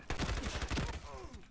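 Rapid bursts of MP5K submachine gun fire in the online shooter Ironsight, several quick volleys close and loud in a close-quarters firefight, trailing off into a fainter ringing tail.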